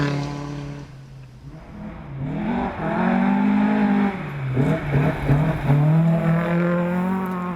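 Datsun 1600 rally car pushed hard and sideways on a stage, its engine note loud and close, rising and falling through revs and gear changes as it slides along.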